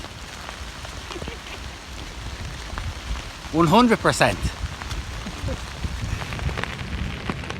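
Steady rain hiss fills the background throughout on the Appalachian Trail, with a person speaking briefly in the middle over the patter.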